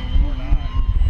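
HobbyZone Arrows RC Tecnam 2010 model plane making an inverted pass in wind at an outdoor flying event, its electric motor giving a steady nearby whine over gusty rumble throughout the short moment.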